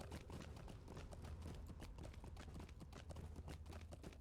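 A hobbit rides a pig mount in the online game Lord of the Rings Online, its hoofbeats pattering in a quick, steady clip-clop rhythm, close and fairly quiet.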